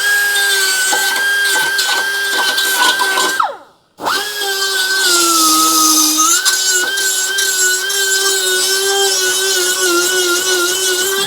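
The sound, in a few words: die grinder with tungsten bit grinding rusty frame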